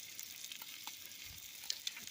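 Thick-cut Snyder's bacon frying in a pan, a faint steady sizzle with a couple of sharper pops near the end.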